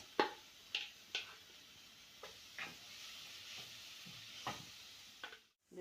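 Minced onion and garlic sauté in melted ghee, a soft steady sizzle running under a few sharp stirring clicks from a utensil against the pan, close and fairly quiet.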